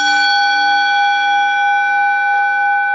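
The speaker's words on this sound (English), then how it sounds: "remembering the gong, the tone" A struck gong rings with a steady, sustained tone, its layered harmonic shimmer holding loud and even for the full three seconds before slowly starting to fade.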